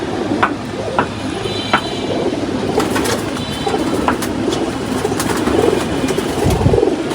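Pigeons coo softly in a low, throaty murmur, repeated over a constant background hiss with a few faint clicks and knocks nearby.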